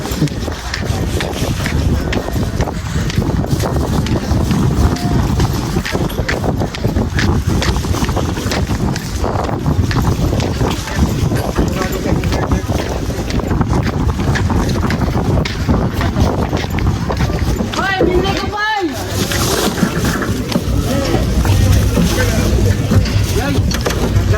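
A bangka boat travels to an island, its constant engine drone and wind buffeting the microphone, steady and loud throughout, with occasional voices faintly underneath.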